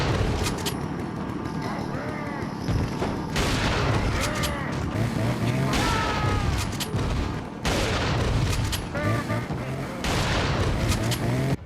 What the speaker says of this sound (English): take aim with my shotgun. And man, just listen to how this thing sounds